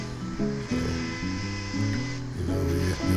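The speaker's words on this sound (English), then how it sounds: "the chainsaw can quickly go back in and give it a harder separation." A chainsaw detailing a wooden owl carving in a tree works nearby, its engine buzzing and shifting pitch as the throttle rises and drops through the cuts, with no voices over it.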